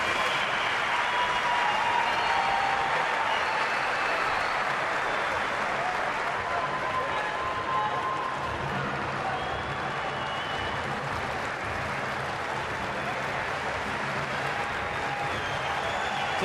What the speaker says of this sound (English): He also points to Glaetzer and says, give him a round of applause as well.